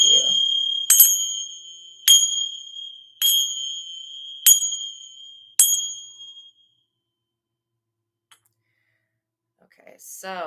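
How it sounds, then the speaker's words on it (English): A bright metal chime struck six times at an even, unhurried pace, each ring clear and sustained before fading, followed by near silence. "I'm going to go ahead and use my sacred chime"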